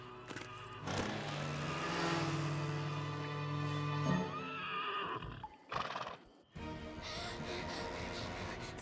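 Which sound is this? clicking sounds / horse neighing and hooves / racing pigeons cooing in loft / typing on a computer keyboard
horse neighing and hooves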